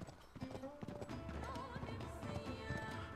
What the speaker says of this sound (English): I'm gonna call you Sasha, my horse.